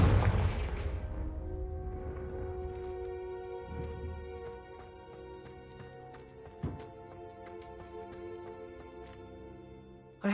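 A Confringo fire spell blast in the video game Hogwarts Legacy opens with a loud burst that decays into a ringing, sustained magical tone, with a second sharp impact midway and another at the end.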